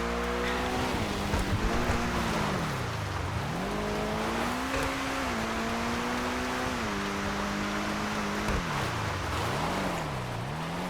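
A Pegassi Toros SUV (Lamborghini Urus style) in GTA 5 Online drifting, its engine droning loud and continuous with pitch rising and dipping through gear changes and throttle lifts, under a constant roar of road and tire noise.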